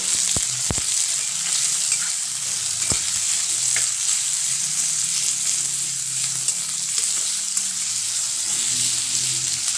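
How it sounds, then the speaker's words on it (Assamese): Loud, continuous sizzling of onion, garlic and ginger frying in a pan for brinjal bhurji, with occasional sharp scrapes and taps of a spatula stirring. "এতিয়া মই এইখিনি ভালকে ভাজি লম"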